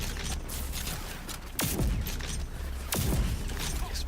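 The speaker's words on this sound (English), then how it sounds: "The assault rifle in this game is a bit overpowered" Two heavy gunshot bursts from an assault rifle in the video game Rage 2, each a loud boom with a ringing tail, over a constant rumbling game ambience.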